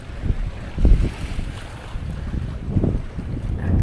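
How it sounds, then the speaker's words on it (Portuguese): Strong wind gusts buffet the microphone at a beach in Florianópolis, giving a loud, rumbling roar that swells and fades in waves, with faint surf underneath and no voices. "Esse vento um pouquinho mais forte"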